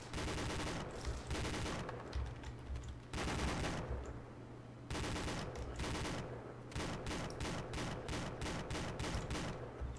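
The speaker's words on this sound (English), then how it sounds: "Good fire with the 50 cal." A .50 cal machine gun fires in a video game military operation, with repeated long bursts of heavy automatic fire and short gaps between them. The gunfire is loud and close and fills the whole stretch.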